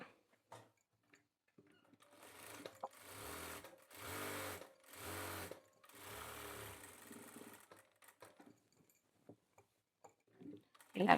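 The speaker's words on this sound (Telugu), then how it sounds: "ఇలా ఈ చివర కూడా కుట్టు వేసుకోవాలి." A sewing machine stitches a men's kurta in three steady bursts of a few seconds each, with quiet pauses and small handling clicks in between, close and fairly soft.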